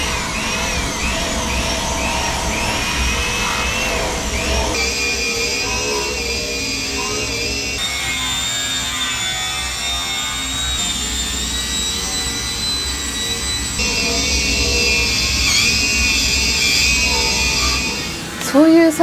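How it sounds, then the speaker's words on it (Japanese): A power tool polishes a welded stainless steel R-type truck fender in a workshop, giving a steady loud whine with shifting high tones that runs throughout and swells near the end. "溶接の後は次は磨きの工程ですね。"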